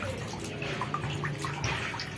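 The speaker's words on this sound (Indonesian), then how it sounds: "saya siram lagi sampai benar-benar yang keluar airnya sampai putih lagi" Water poured through fermented plant growing media for aglaonema, draining out in a steady trickle with scattered drips and splashes throughout.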